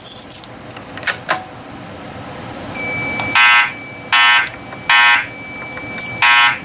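A home fire alarm system sounds during a test, its loud electronic horn pulsing in four evenly spaced blasts, after a few faint clicks and rattles at the start.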